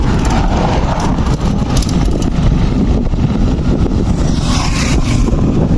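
Loud, constant headwind buffeting the microphone, with a low rumbling roar of road noise underneath, on an uphill road to Tagaytay.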